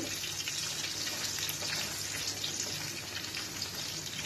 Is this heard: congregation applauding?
no